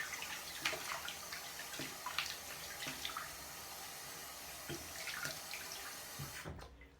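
Hot water runs steadily from a tap into a sink during a wet shave, a faint continuous hiss with occasional splashes and clinks, stopping abruptly near the end.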